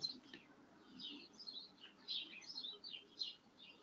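Birds chirp faintly in the background outdoors during the breeding season, quick high tweets scattered throughout over a low hum.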